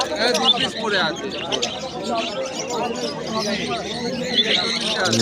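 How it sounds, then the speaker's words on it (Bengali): Many budgerigars and lovebirds chirp and chatter busily together at a bird market in Uluberia, a dense twittering crowd close by, with people talking underneath. "দেখতে পাচ্ছ এই বদ্রি পাখি, লাভ বার্ড"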